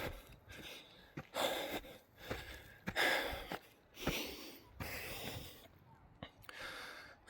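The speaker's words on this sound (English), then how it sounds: "you hear me heavy breathing?" Heavy, rasping breaths drawn in and pushed out in an uneven rhythm, close to the microphone but quiet, with some gasping and wheezy edges between breaths.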